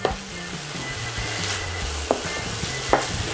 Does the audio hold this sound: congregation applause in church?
no